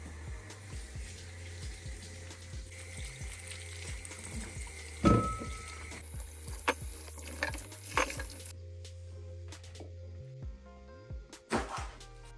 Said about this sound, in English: I'm gonna go ahead and wash my okra with warm water